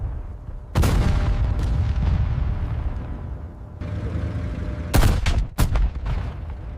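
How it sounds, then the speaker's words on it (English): A Sherman Firefly tank's long cannon fires with a sharp, loud blast, followed by a rolling rumble, then a second burst of heavy booms and cracks near the end. "The sound of the shot was sharper, more piercing than the usual 75-meter cannon."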